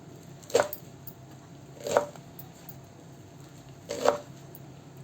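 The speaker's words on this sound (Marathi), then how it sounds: "आता ती आपण कापून घेऊया. एकदम बारीक नाही कापायची" A knife chops fenugreek (methi) leaves on a board with three distinct, close, soft thuds spaced more than a second apart over quiet background hiss.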